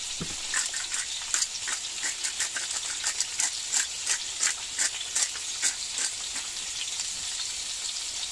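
Salmon pieces frying in a pan inside a camper van, a bright, steady sizzle with frequent crackling spits and pops, close up and fairly loud with no talking.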